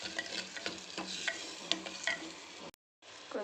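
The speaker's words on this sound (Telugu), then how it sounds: "ఫ్రై చేసుకుందాం." A pan of palak pappu base frying after turmeric and salt go in, with a continuous close sizzle and stirring scrapes that cut out for a moment before resuming, no voices.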